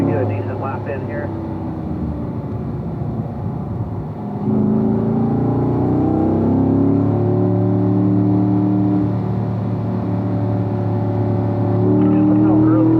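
A car lapping the Ron Fellows track, its engine droning steadily with rising harmonic tones as it accelerates, loud and continuous throughout, with a person talking over it.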